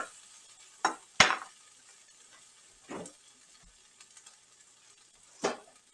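Artisan pepper pork slider patties sizzle on a grill with a steady, fairly quiet hiss. Several sharp metallic clanks and scrapes from utensils stand out above it, and no one talks.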